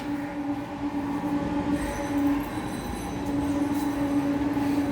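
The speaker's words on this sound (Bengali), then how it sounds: "তো ওখান থেকে ট্রেনের আওয়াজটা আসছে।" A train runs along the railway line right beside a house near Sheoraphuli, its steady rumble and tonal hum continuous for the whole stretch, heard from a nearby veranda with no talk.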